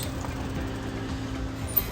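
A steady low rumble of traffic outside, cars passing at a distance, continuous and faint with no talking.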